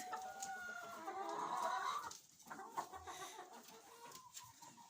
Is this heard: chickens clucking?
yes